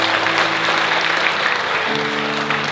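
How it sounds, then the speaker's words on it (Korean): Congregation at a Sunday worship service clapping together, a dense steady round of applause from many hands, a low hum sustained beneath it. "우리 격려하느라 박수 한번 할까요?"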